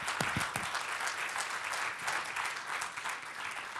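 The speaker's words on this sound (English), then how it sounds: "So I'd just be grateful if you could just give them a round of applause." A conference audience applauds, a dense, steady wash of many hands clapping at moderate loudness for several seconds, with no speech over it.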